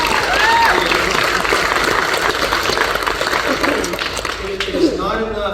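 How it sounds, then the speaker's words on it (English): Loud applause from a crowd at a Republican party executive committee meeting, dense and sustained, with voices and cheers mixed in before tapering slightly near the end. "It's okay to clap for that."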